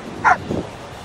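A single short bark from a dog, sharp then dropping lower, over faint outdoor background noise.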